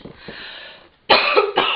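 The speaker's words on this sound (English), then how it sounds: "I'm going to cough" A few close, harsh coughs burst out after a moment of quieter breathy sound, loud and abrupt, with a brief pause between the final two.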